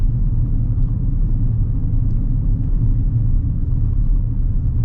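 A 2026 GMC Sierra EV electric pickup driving, heard from inside the cab as a steady low road rumble and tyre hum, loud and continuous with no engine revving.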